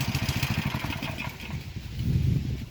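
A homemade tractor's engine chugs close by in a fast, even putter, then rises briefly in a louder burst near the end, with no talk over it.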